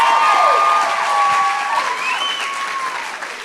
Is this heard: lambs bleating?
no